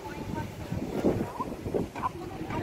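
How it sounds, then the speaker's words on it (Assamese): Strong wind blows across an open hillside near a temple, buffeting the microphone with a low, uneven rumble in gusts, while voices murmur faintly beneath it. "তাত ইমানেই বতাহ মাৰিছে মানে ইজনে ইজনৰ গাত ধৰি যাব লগা হৈছে বহুত বতাহ মাৰি আছে"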